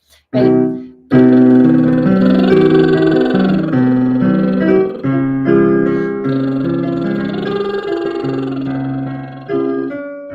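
A voice sings buzzing lip trills that glide up and down alongside a sustained instrument, loud and close, with a brief pause near the start.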